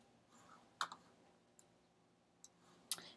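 A computer mouse gives a handful of sharp, faint clicks spaced irregularly over a quiet background, close by and with no talk.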